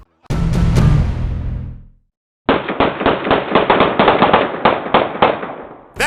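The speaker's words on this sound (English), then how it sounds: "These guys fired like a dozen shots in just a few seconds." Rapid gunfire from two gunmen shooting at a Beverly Hills mansion, caught on surveillance video: a loud, echoing volley of three quick shots, a brief silence, then a dense rattling string of about a dozen close shots in a few seconds.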